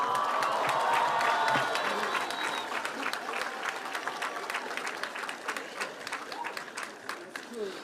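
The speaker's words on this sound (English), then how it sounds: "One last round of applause" A high school graduation crowd claps in a sustained round of applause, full and dense at first, then thinning slightly toward the end, with faint voices and a brief tone in the background.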